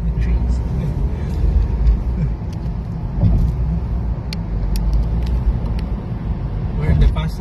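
A car cruising at high speed in the fast lane of a Japanese expressway while following a sports car, with steady low road and engine rumble and wind noise throughout and people talking over it.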